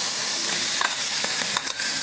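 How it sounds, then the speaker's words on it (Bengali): Pumpkin fritter batter sizzling in a hot wok while it is stirred, giving a steady bright crackle with scattered scraping clicks throughout. "একটু নাড়াচাড়া করে দেব যেন গন্ধটা কাঁচা গন্ধটা যেন না থাকে এই জন্য এটা কড়াইয়ের মধ্যে দিয়ে দিলাম"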